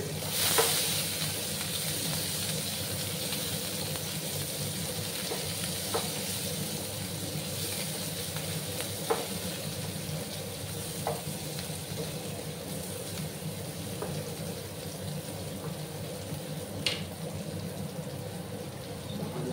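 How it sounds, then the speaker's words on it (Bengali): Sliced onions with cumin and a little salt sizzle in hot oil in a pan, a steady frying hiss with occasional soft stirring clicks, close and continuous, no one talking. "পেঁয়াজগুলোকে একটু লাল লাল করে ভাজবো আমি।"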